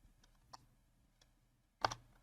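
A computer mouse double click while drawing in Archicad: two quick, crisp clicks close together near the end, after a few faint isolated clicks in a quiet room.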